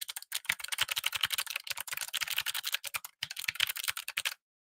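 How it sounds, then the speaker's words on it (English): Someone types quickly on a Logitech MX Mechanical Mini with clicky switches, producing sharp, rapid, close key clicks in bursts with one brief pause, followed by silence. "let me pull it out so you can listen to the keys"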